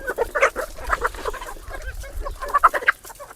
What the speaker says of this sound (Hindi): मेरे पास देसी मुर्गे हैं